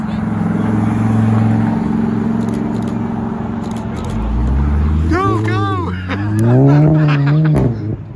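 A Lamborghini Huracan supercar drives past on a street in Alderley Edge, its engine rising and falling in pitch as it nears and pulls away, with people talking over the end.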